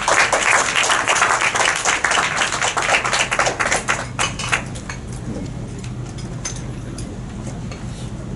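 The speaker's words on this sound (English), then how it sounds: "let us have a big round of applause to welcome him" Audience applause welcoming a speaker at a Rotary club meeting, a brisk burst of many hands clapping that thins out and stops about halfway, leaving quiet room tone.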